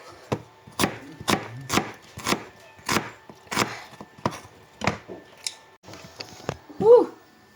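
Onions chopped with a knife on a board, about a dozen sharp, evenly spaced cuts close by, with faint voices underneath and a louder knock at the end.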